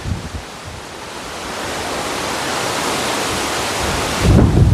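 Strong wind roars steadily across an open spot on Mt. Makiling, a dense continuous rush that swells louder near the end.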